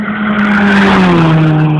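A new Toyota Mark X is pushed hard in a Karachi street race, and its tires give a loud, sustained squeal that bends in pitch as the engine roars under it.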